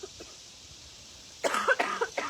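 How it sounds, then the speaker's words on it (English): A person with a lingering cold coughs several times in a harsh, close burst after a quiet, breezy stretch outdoors. "So the cough is lingering."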